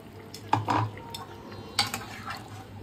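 Chicken cooking in mustard paste in a pot, with a few metallic clanks of a lid and utensil against the pot over a low background sizzle.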